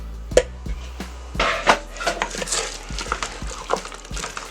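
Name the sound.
stirring potatoes in chicken broth in a pot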